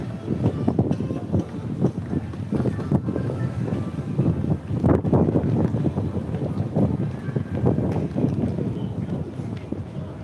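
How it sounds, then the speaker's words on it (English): Strong outdoor wind buffets the microphone in loud, continuous rumbling gusts with no break, heard alone. "Let's get out of this wind."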